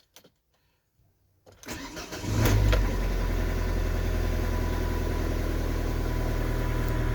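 A worn car with a faulty ignition cranking after a quiet pause, then catching and settling into a steady, loud idle that runs on evenly to the end.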